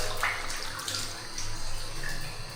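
A motor pumping water into a tank, heard as a steady broadband rushing flow with a faint low hum underneath, continuous and fairly close, with no talking.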